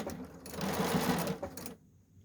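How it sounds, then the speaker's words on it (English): Sewing machine stitching through a fabric mask, a close, loud burst of rapid needle whirring lasting about a second and a half before stopping. "I'm going to feed the mask through the machine also."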